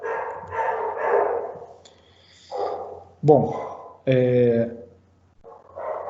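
Neighbour's dogs bark in short bursts, a loud yelping bark standing out around the middle, heard between a man's speech.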